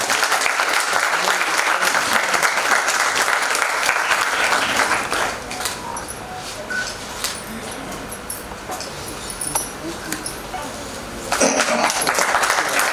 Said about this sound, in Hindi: ये इस पर जोरदार ताली से